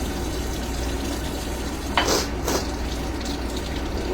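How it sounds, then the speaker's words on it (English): Potatoes rinsed under a running kitchen tap, a steady, close wash of water with a brief louder splashing burst partway through as the potatoes are moved in the stream. "Rinse your potatoes off."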